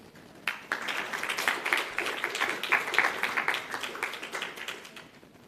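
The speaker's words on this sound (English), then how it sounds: "Please clap hands for her." An audience at a research pitch competition claps for several seconds, a dense patter of hand claps that swells in the middle and fades toward the end, with no talking over it.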